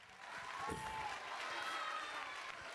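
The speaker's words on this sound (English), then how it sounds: "give them a round of applause" A school band concert audience gives a sustained round of applause, with dense, even clapping filling the hall at a fairly faint, distant level under a little crowd murmur.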